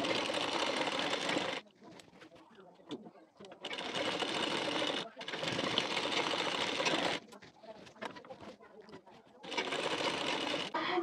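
A sewing machine stitches the shoulder seam of a blouse in bursts of steady whirring, with short pauses in between and quieter handling sounds during the gaps.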